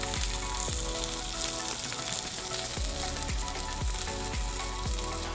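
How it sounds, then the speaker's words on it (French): Birria meat searing over medium heat in a pan, a constant loud crackling sizzle with repeated low thuds and clunks spaced through it, no speech over the frying. "on va les saisir à feu médium pour à peu près 2 à 3 minutes de chaque côté"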